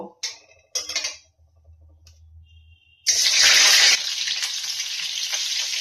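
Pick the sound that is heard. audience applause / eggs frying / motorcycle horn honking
eggs frying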